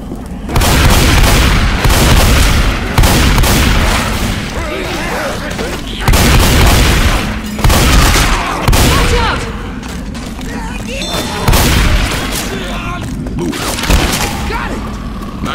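Gunfire and booming blasts from Left 4 Dead's No Mercy chapter, loud bursts in rapid clusters with short pauses between volleys, while people talk over the action.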